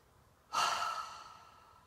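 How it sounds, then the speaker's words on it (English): One deep, slow yoga breath drawn in and let out through the mouth, close and soft, starting abruptly and fading gradually in a quiet room. "Breathing in."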